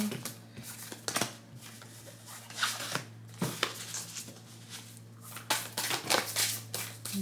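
Cards shuffle and slide with soft papery riffles and taps as an oracle card is drawn from the deck, close and fairly quiet, with a steady low hum underneath.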